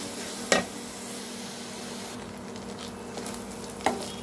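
Grated coconut frying with whole spices in a pan for Kerala-style mutton curry, giving a faint steady sizzle with two sharp scraping stirs near the start and end.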